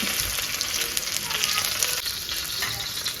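Mackerel fillets fry in coconut oil on a flat tawa, a steady dense sizzle with crackling pops running throughout, close and fairly loud with no voices.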